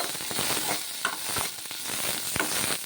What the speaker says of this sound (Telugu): పచ్చిమిర్చి కొంచెం ఆయిల్ వేసేసుకొని ఇలా మగ్గించుకోవాలి